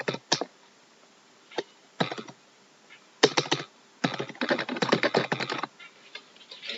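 Password being typed on a computer keyboard in quick clustered bursts of clicky keystrokes separated by short pauses, close and clear with no talking.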